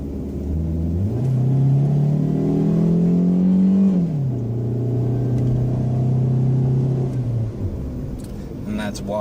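A car engine pulls at wide open throttle with a loud, droning note that climbs in pitch, drops back briefly, then holds a steady strained hum before easing off near the end.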